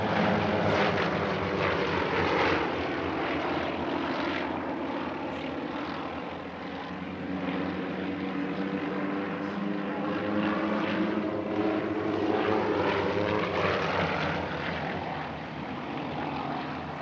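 A six-ship aerobatic display team of propeller aircraft flies at an airshow, a loud sustained engine drone with rising and falling pitch sweeps as the formation passes, continuous and close, with no talk.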